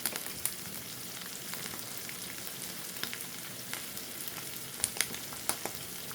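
Garlic sizzling in hot oil in a pan for pasta arrabbiata, a steady soft crackle with occasional sharper pops, close and fairly quiet, with no talking.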